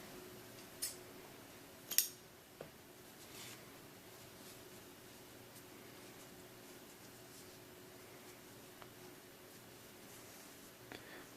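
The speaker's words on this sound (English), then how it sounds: "I'll chain 1 and I'll cut this yarn." Scissors snip through crochet yarn in a single sharp, close cut amid a quiet room, followed by faint small handling ticks.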